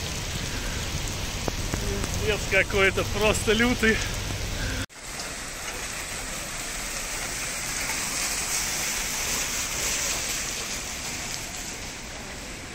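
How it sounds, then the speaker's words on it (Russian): A heavy rainstorm downpour in Dubai roars as a dense, steady hiss of pounding rain. Someone talks over the first few seconds, then the rain continues alone. "просто херанул лютый ливень"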